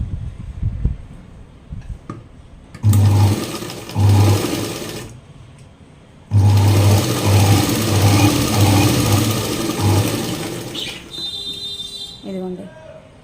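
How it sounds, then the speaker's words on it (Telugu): A sewing machine stitches a blouse back piece in two loud bursts of rapid, close mechanical whirring with rhythmic pulsing, separated by a pause, while someone talks throughout. "మనం ఇలా క్రాస్ పీస్ తీసేసుకొని చక్కగా మనం ఇలాగ కుట్టి తిప్పేసుకోవాలన్నమాట"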